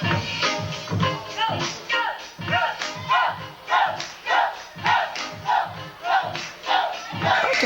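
Crowd at a live show chanting and cheering in rhythmic swells, a loud, close mass of voices rising and falling roughly once per second.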